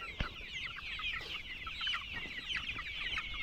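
Chickens on a poultry farm cluck continuously at feeding time, a busy flock of overlapping clucks and squawks close by, with no talk.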